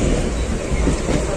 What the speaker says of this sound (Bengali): চলো আমাদের ট্রেন ছেড়ে দিল, লোকাল ট্রেন।